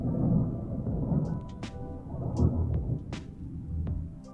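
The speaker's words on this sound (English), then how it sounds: "Was that thunder?" Thunder rolls in low, uneven rumbles during a storm, with a few sharp clicks and taps over the top, fairly close and filling the whole stretch.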